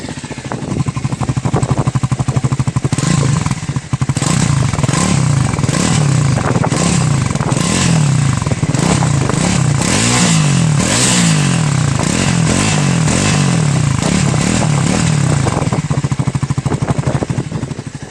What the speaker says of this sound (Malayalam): നമുക്കതെന്നേരം ഇതിൻ്റെ എക്സോസ്റ്റ് നോട്ടും കൂടെ കേട്ട് വെക്കാം അല്ലേ